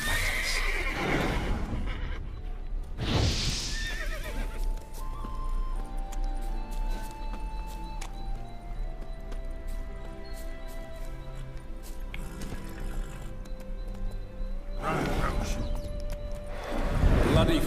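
A horse in The Witcher 3 whinnies loudly twice, near the start and again near the end, with soft hoof clops and steady game ambience and music tones in between.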